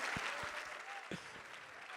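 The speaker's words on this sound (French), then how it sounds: "Applaudissez Laura" Faint, distant applause from a crowd at a political rally, a soft continuous patter of clapping with a few louder nearby claps and muffled voices underneath.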